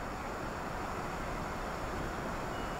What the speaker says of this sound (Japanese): 4番線から電車が発車しますご注意ください